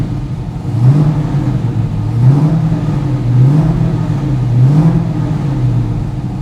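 A 1967 Pontiac Firebird engine idles while warming up, loud and close, rising and falling in four slow, even revs over a steady low rumble.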